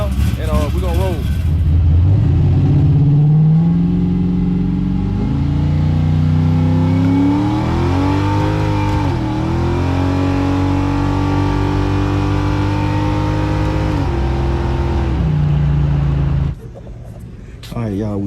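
A Chevy race car with a transbrake on 26-inch wheels revs and accelerates, its loud engine tone climbing and shifting repeatedly before cutting off abruptly near the end.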